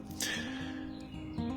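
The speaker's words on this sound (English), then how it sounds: "Listening to the birds." Bright bird chirps in a forest, a few short high calls over a steady low background hum, fairly faint and without voices.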